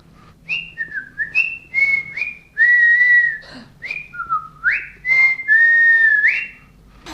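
A person whistles a tune clearly and close up, with a run of short gliding notes and a few longer held tones in a lively, uneven rhythm.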